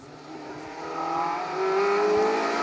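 A Mark II Vauxhall Astra GTE rally car on an asphalt stage of Rali Ceredigion 2024 is heard at a distance, its engine note rising steadily as it accelerates through the gears.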